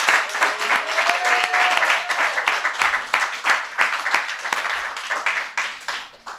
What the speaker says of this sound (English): One more big round of applause for all of our storytellers.